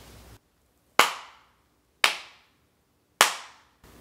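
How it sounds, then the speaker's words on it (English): Three sharp, loud hand claps spaced about a second apart, each followed by a short decaying room reverb, in a room treated with GIK diffusion panels. "I did a clap test back here"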